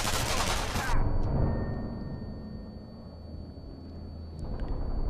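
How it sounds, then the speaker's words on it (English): An experimental grenade goes off in Sniper Elite V2 as a loud, crackling blast. It cuts off sharply after about a second, leaving a low rumbling tail and faint ambient noise. "That was an experimental grenade"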